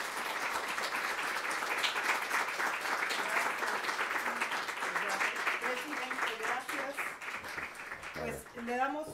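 Lecture audience applauding at the close of a philosophy course session, a steady wash of clapping that carries on for several seconds while someone talks over it into a microphone.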